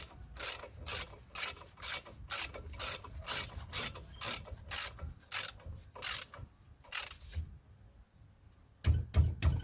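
A ratchet clicks in steady, evenly spaced bursts while tightening a brake caliper guide pin bolt on a Vauxhall Astra, close up, with a few heavier clunks at the end.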